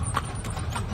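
Hooves of a horse pulling a tartanilla carriage clip-clop steadily through downtown Dumaguete City, a brisk even rhythm set against constant street noise.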